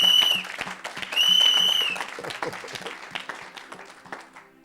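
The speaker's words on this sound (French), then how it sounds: "Clap your hands for Jesus." Congregation clapping hands during a lively church worship service, a steady dense patter of many hands under loud music and a singing or shouting voice that fades slightly toward the end.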